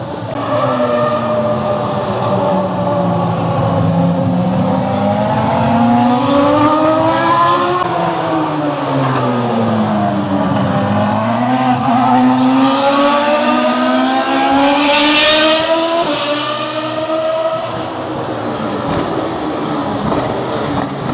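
Ferrari Formula 1 race cars from the 2000–2004 era, V10 engines screaming loudly at close range at the Monaco historic Grand Prix, with several rising and falling engine pitches as cars accelerate and pass, no talk.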